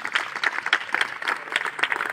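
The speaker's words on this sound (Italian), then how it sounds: "ci vuole un applauso" An audience at a festival talk in Ortelle applauds, a brief, fairly soft patter of clapping from a seated crowd with no talking over it.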